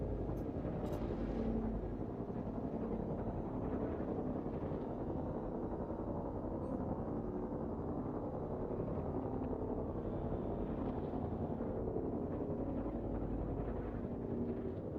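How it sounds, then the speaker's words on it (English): The Caterpillar, a big ship in a video game, runs its engine with a constant heavy rumbling drone that sounds rough and strained, loud and unbroken throughout. "Not many big ships make the noise, but the Caterpillar does."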